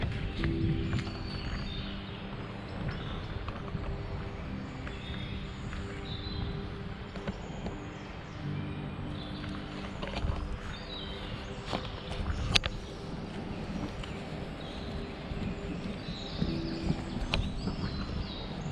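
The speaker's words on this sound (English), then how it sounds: "let's just listen to this woodland" Dense outdoor woodland ambience, a steady broadband wash with scattered faint bird calls and occasional rustles and knocks, heard continuously without talk.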